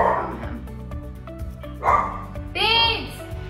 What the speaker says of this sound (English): Barking away.